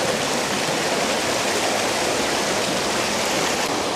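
A full creek in the countryside between Dikili and Salihleraltı flowing toward the sea, a steady, loud rushing and gurgling of water with no voices.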